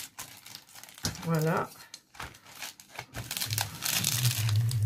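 Clear plastic film crinkling and rustling as it is pressed flat onto a diamond painting canvas, close and scratchy in bursts, with someone speaking briefly over it.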